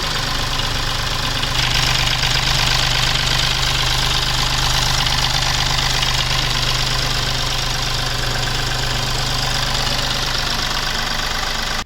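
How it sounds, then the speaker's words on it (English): A 2016 Mahindra Bolero 4X2 turbo diesel engine idles steadily and loudly up close, a constant rumbling drone with a faint ticking rattle throughout. "Right now we are going to start the vehicle and show you the engine noise."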